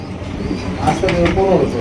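A pair of red Bombay pigeons giving a few soft, low coos close by, partly under a voice talking.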